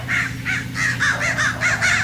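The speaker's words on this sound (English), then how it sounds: "Follow the sound of crows." Repeated harsh cawing from crows, about eight calls in quick succession, loud and fairly close over a low hum.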